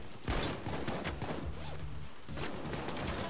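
Gunfire in Payday 2 as a full magazine is emptied into a bulldozer enemy, with rapid shots in a dense burst amid a loud, busy game mix of crashes and music tones.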